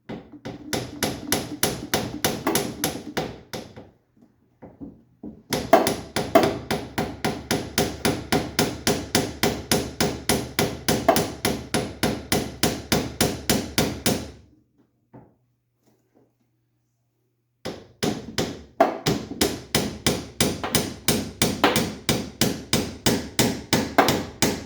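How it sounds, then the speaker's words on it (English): Long runs of rapid, rhythmic metal hammer taps on the splines of a Triumph TR3 steering rack, loud and close, stopping twice for short pauses before starting again. "I don't like tapping new stuff with a hammer"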